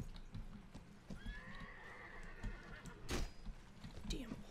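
A horse whinnies with a long rising-and-falling cry amid clattering hoof beats and battle din in the medieval combat game Mount & Blade, the neigh mid-level over constant background noise.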